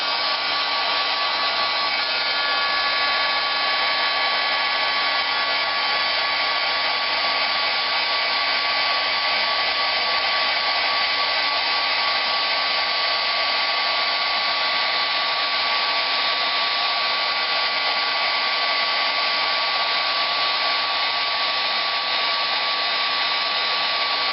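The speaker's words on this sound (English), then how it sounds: "I'm just going to hit this with my heat gun, and I'm not going to stay anywhere very long." Steady, continuous blowing whir of a heat gun used for heat embossing, loud and close, running unbroken throughout with no talk.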